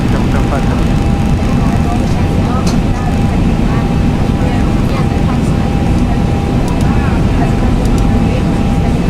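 A Boeing 737-800 (Zibo Mod) in the X-Plane 11 flight simulator takes off, its jet engines a loud, steady, dense roar throughout, with faint radio-style voices mixed underneath.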